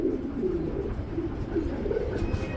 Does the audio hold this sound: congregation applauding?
no